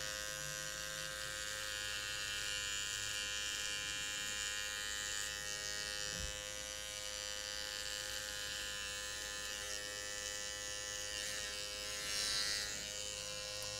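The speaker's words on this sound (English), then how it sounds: "I like to stretch the skin as much as I can and just glide the clipper over the skin" Electric hair clippers glide steadily over stretched skin during a men's business haircut on fine hair, a constant close buzzing hum with harmonic whine that holds evenly throughout, with no talking.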